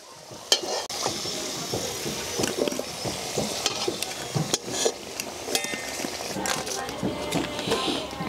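Steady hiss of potatoes frying in oil with occasional stirring clatter, close and continuous, with a few brief knocks throughout.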